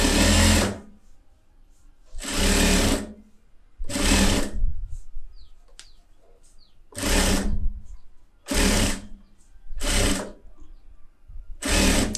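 An electric sewing machine stitches lining and piping on a garment in about seven loud, steady whirring bursts of a second or so each, separated by quiet pauses.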